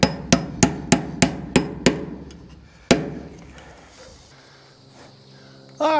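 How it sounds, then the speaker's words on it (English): Sharp, ringing hammer blows while building carpenter bee traps outdoors: seven quick strikes in a steady rhythm, then one final hit, followed by quiet outdoor background and a brief voice at the end. "especially banging around with this hammer"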